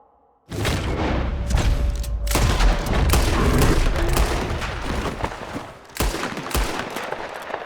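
Gunfire in Red Dead Redemption 2 during a bear hunt rattles in loud, dense volleys of rapid shots with heavy booms, nearly continuous for several seconds.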